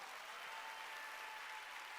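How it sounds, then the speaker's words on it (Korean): Church congregation applauding during a Wednesday worship service, a uniform, distant wash of clapping that holds steady and fairly faint throughout. "지금도 본 사람만 박수 쳐"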